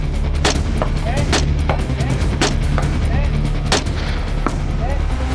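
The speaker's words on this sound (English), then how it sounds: "It's just a great rifle. Shoot." Rifle gunshots on an outdoor shooting range, a series of loud, sharp cracks spaced roughly a second apart over steady background noise.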